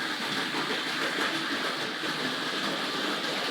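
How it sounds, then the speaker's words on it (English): A small Tri-ang model tank locomotive pulling a short goods train runs steadily along toy track, giving a continuous light rattle and rumble with no talking. "So we'll just get that little tank locomotive underway with a small goods train."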